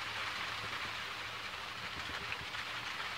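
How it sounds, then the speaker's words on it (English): Steady, dense rainfall from a thunderstorm in Crestline, California, hissing continuously with a low rumbling undertone, no voices, constant in loudness throughout. "Holy cow, the rain's strong."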